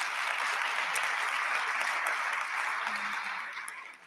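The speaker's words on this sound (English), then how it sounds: "So let's give them a round of applause." A large audience at an evening advertising awards gala in Chicago applauds steadily in a dense, sustained wash of clapping that softens and fades near the end.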